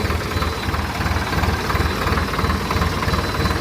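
A Solis 50 RX tractor's engine idles just before shutdown, a steady close diesel clatter with a fast, even low pulse and no talk.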